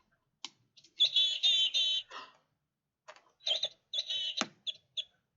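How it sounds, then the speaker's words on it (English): Bright, high-pitched bird chirps in two bursts of rapid trills separated by a short pause, clear and fairly close against quiet background. "Do you hear the birds?"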